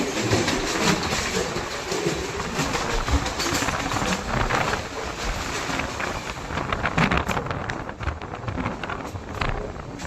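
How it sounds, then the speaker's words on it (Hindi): The Godda-Duarai Express passenger train runs steadily, with a loud continuous rumble of wheels on track, wind rush and rattling carriages heard from inside the moving train. "अपनी यात्रा चल रही थी गोंडई-दुरई एक्सप्रेस में, और जो कि काफ़ी बढ़िया चल रही थी"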